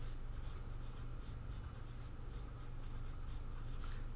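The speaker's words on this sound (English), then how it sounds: "So in my journal, I'm going to write, I found the folk tale." Pen or pencil writing in a journal, a steady soft scratching and rubbing that runs close and continuous beneath a low background hum.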